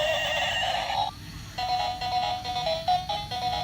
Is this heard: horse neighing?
yes